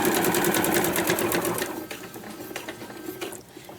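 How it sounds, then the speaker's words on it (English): Sewing machine stitching along the fold line of a fabric sewing roll, a fast, close, rapid needle rattle that slows and fades in the final seconds. "I was going to go ahead and stitch also where my fold line was."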